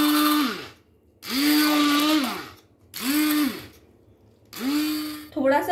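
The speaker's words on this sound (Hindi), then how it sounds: "अब हम इसको ब्लेंडर से ब्लेंड कर लेंगे।" Blender pureeing cooked mustard greens for sarson da saag, four loud pulses of about a second each with brief pauses between them, the motor pitch dipping under load, then a short fifth burst at the end.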